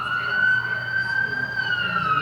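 Emergency sirens from an ambulance and a fire truck in a city wail steadily and loudly as they pass close by, with traffic noise beneath and speech present.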